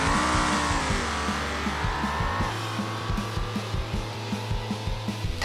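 A Bastion car in BeamNG drag racing, the engine revving and easing off with rapid rhythmic pulsing and clicks as it slows, loud and steady without voices.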